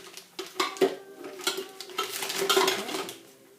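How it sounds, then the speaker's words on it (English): A spatula scrapes and taps thick chocolate-cake frosting into a pastry bag, giving a run of close scraping, clinking and squelching strokes with no talk. "I find it much easier to spatula my frosting directly into the bag in the following way"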